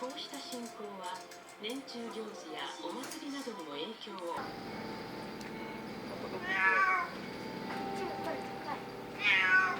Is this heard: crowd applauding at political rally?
no